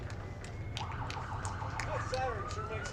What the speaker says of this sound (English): That siren sure makes a lot of noise,